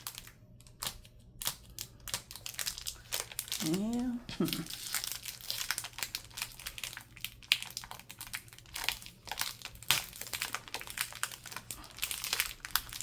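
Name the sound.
plastic bag crinkling while taking items out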